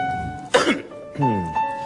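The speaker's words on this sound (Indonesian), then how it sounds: "Enggak, saya lagi batuk" A single harsh cough bursts out near the mic between stretches of quieter vocal sound.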